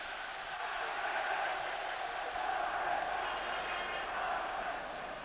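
Broad, steady roar of a stadium crowd at the UEFA Cup Final second leg between AZ Alkmaar and Ipswich Town, cheering without a break, heard at a distance as a continuous wash of sound.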